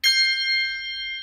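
Two handbells an octave apart are struck at once, producing a single bright ring that starts sharply and sustains with clear pure tones, fading gently over about a second, close and alone.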